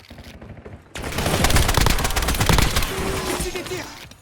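Dense bursts of automatic gunfire from the video game Warzone, rapid overlapping shots ringing loud after a quieter first second and continuing to the end.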